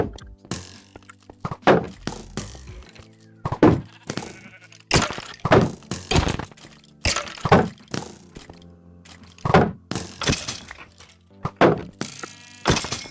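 Minecraft sword strikes as two mobs are cut down, a rapid run of sharp, dull thunks and whacks with sheep bleats mixed in, loud and close in irregular bursts.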